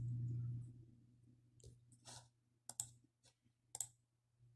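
A computer mouse clicks several times in sharp, close, isolated snaps against a quiet room hum, with irregular gaps between them.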